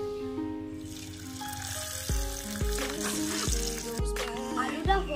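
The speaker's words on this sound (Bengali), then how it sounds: "তেল গরম হয়ে গিয়েছে, আলুগুলো দিয়ে দেব।" Potatoes dropped into hot mustard oil sizzle and fry loudly and steadily, with faint clinks and stirring sounds over a background of low tonal music.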